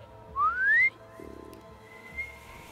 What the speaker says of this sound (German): Es wird immer schlechter, mein Pfeifen.